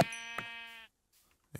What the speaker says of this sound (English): I hear you. You're black sheep though. White sheep.